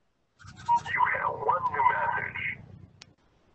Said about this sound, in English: Oh, it's my flipping phone, sorry.